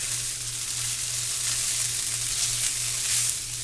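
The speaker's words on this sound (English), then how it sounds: "breaking up that rice. And it's easier to do fried rice with leftover rice than it is freshly cooked." Leftover cooked rice stir-fries in a hot pan for fried rice, a steady close sizzle with a faint low hum beneath it and no talk.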